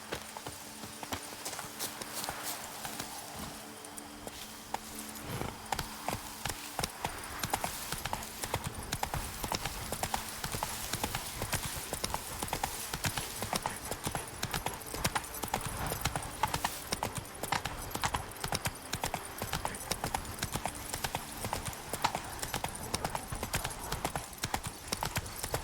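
Roach the horse walks in The Witcher 3: Blood and Wine, steady hoof clip-clops repeating in an even rhythm, fairly quiet and continuous, with faint ambient game sound underneath.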